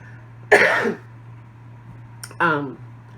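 A close, rough cough from a person with a cold, then after a pause a second throaty cough with a voiced edge, over a steady low hum.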